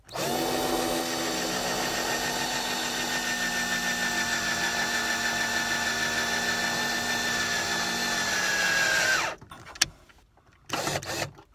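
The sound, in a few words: cordless drill driving drywall screws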